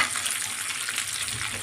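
Curry leaves hit hot oil in a tempering for buttermilk rasam, giving a dense, even crackling sizzle that holds steady through the short moment, close by with no voices.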